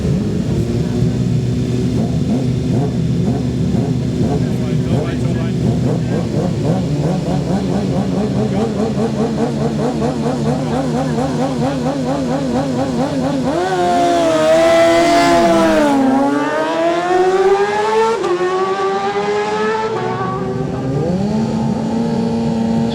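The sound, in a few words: racing motorcycles blasting off down Bray Hill, Manx Grand Prix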